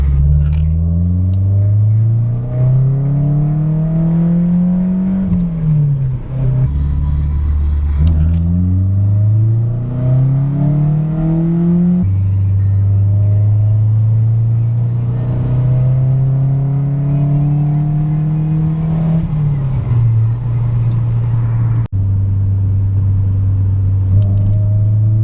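A car accelerating hard through the gears on a pull run, with the engine note climbing steadily in each gear, dropping briefly at every shift, and rising again, loud and continuous from start to finish.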